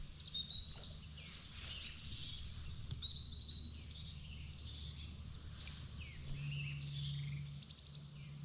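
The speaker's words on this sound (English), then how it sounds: "these birds are just" Birds sing and chirp along a wooded creek during a paddle, their calls faint and distant over a steady low background hum, with insects buzzing softly.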